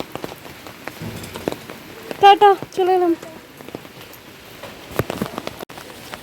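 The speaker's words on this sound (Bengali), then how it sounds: "যাওয়ার সময়তে জোরে জোরে বৃষ্টি, আসার সময়তে মানে আস্তে আস্তে, কিন্তু হচ্ছে" Rain falls steadily on surfaces outdoors, a continuous soft patter lasting the whole time, with a woman's short spoken words and a brief tonal sound partway through.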